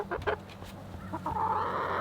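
Chickens clucking around a mobile coop on wheels, several short nearby clucks followed by a longer drawn-out squawking call, with no talk.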